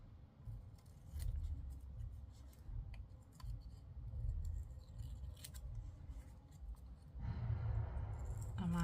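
Scissors snip through material in a few quiet, close cuts over a low background rumble, with a louder stretch of room noise near the end.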